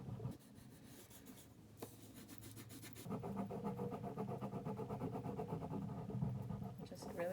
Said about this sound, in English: So I'm gonna just use a crayon for this